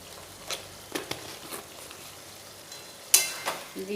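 Spices fry quietly in a pan for Bengali fish head curry, a soft low sizzle broken by a few scattered scraping stirs and one sharper clatter, close and with no talk.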